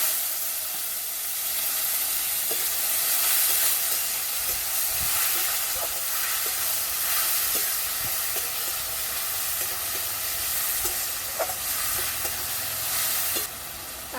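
Chopped tomato dropped into hot oil already holding kasuri methi, giving a steady bright sizzle and hiss with light stirring scrapes, close and continuous, with no talking.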